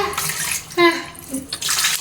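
Water splashes and gurgles as a large cupful is poured into a pot holding 1 kg of rice and four kinds of vegetables for pulao, in short uneven pours.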